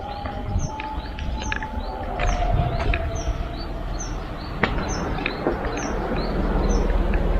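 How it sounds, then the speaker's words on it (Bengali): Birds chirp and call repeatedly from several directions in Joypur forest near an aerodrome, over a steady outdoor background hum, with a high, regular tweeting pattern throughout. "চারিদিকে পাখির ডাকের আওয়াজ"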